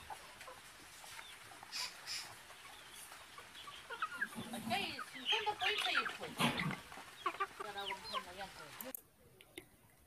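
A chicken clucks in a run of short, irregular bursts that build through the middle and then fade, fairly faint against a quiet background.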